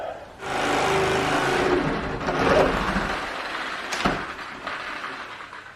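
A reciprocating saw cuts through a door deadbolt, giving a loud, close, rasping buzz that rises and falls in intensity over several seconds, with a sharp clack near the end before it eases off.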